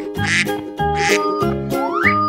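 Cartoonish duck quacks from an animal painting and fountain crayon video, several short bright honks in a quick row over a steady musical backing, close and fairly loud.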